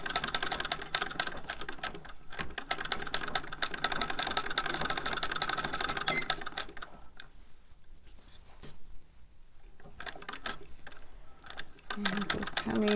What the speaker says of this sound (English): If you haven't already figured it out, this is an old treadle.